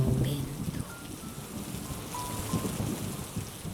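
Steady rain falling during a storm, a dense patter of drops on surfaces with low rumbling underneath, continuous and fairly soft throughout.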